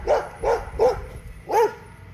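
Several dogs barking in short, excited bursts, four loud barks spaced across about two seconds, close by during an outdoor yoga session.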